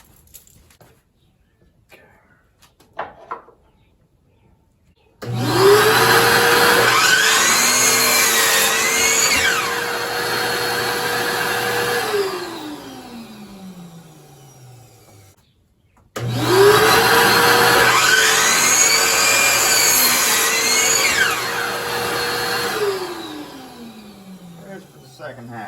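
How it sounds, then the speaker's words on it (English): A power saw cuts a wide wooden board into side pieces for a napkin holder, making two loud, steady whining passes of about ten seconds each with a short pause between them. "now we're gonna use this wider board here to cut the pieces for the sides"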